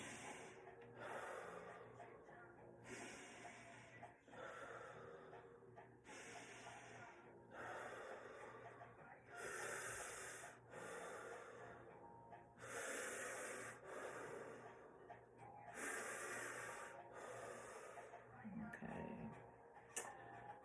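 Slow, deep, audible breaths drawn in and pushed out during a fascial exercise class, repeating in long even cycles close to the mic, with soft talk between them.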